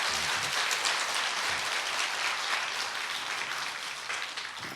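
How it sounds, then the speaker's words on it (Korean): A church congregation applauding during a service, heard as a steady, dense wash of many hands clapping that fills the whole stretch at even loudness, with no talking. "우리 그 앞길을 위해서 박수로 격려하시겠습니다."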